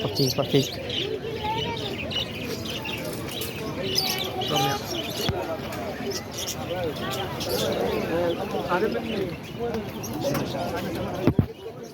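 Caged birds chirping and pigeons cooing at a pet bird market in Dammam, Saudi Arabia, scattered tweets mixed with people talking nearby and occasional clicks and knocks.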